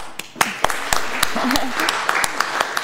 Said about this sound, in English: Round of applause for Michaela and Niku.